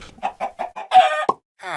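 Minecraft chickens cluck in a run of five short, evenly spaced blips, followed by a longer, brighter squawk, a sharp tick, a pause, and then one more drawn-out cluck.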